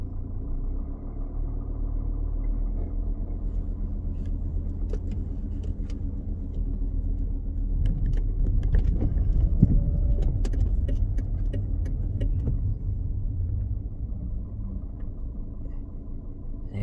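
A car rolls across the Whitehall Road level crossing, a steady close engine rumble and tyre drone that swells slightly midway, with no talking.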